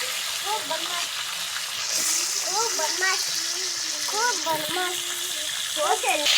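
Fish heads fry in hot mustard oil in a pan, a continuous crackling sizzle running steadily underneath someone talking throughout.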